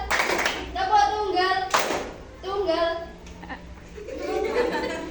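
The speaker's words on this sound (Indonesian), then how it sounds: "Tepuk tunggal." A classroom of primary pupils answers with a unison single clap, a few short sharp bursts heard near, amid a teacher's spoken prompts and children's chatter.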